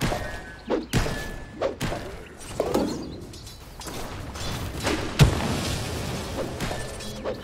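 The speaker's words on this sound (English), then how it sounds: "Dire's top tower is under attack." Combat effects from a Dota 2 match as a tower comes under attack: irregular heavy thuds and impacts, with brief chirpy game sounds mixed between them.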